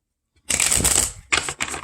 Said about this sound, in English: Let me make sure I shuffle these